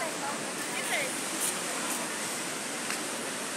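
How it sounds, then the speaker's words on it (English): A waterfall in an African city gives a steady, loud broadband rush of falling water that holds constant throughout, with faint chirps of other sounds near the surface. "so glad you have seen the waterfall."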